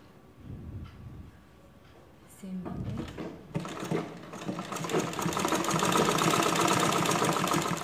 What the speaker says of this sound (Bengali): আমি কিভাবে সেলাই করতেছি আপনারা দেখেন দেখলে বুঝতে পারবেন